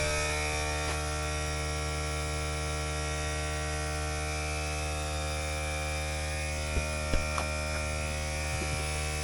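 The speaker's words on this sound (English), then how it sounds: "Now we're gonna try to pull a vacuum with the world's littlest air compressor." A very small air compressor pulling a vacuum on a car's cooling system, a Nissan Terrano: a steady electric buzzing drone with mains-like hum, close and constant, broken near the end by a few faint knocks.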